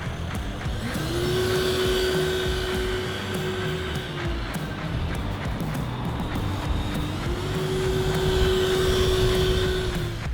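Element RC Sendero HD 4x4 crawler with a brushed motor running at top speed, a steady high electric whine that rises and falls twice over a constant whirring drive noise, fairly loud and with no talk.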